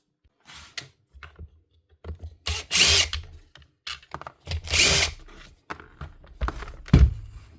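A faulty Makita DHP243 SDS drill that spins but won't drill, running in a series of short, loud whirring bursts separated by pauses, close up in a workshop.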